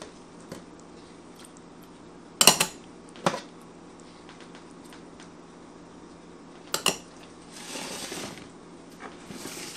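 A utensil clinks sharply against a bowl a few separate times while meatloaf ingredients are mixed, with long quiet stretches in between and soft scraping near the end.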